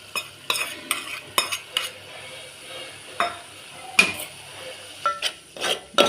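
Fried prawns stirred into a tomato-based spinach and dried prawn curry in a pan: irregular spoon scrapes and clinks against the metal, with a faint steady sizzle beneath.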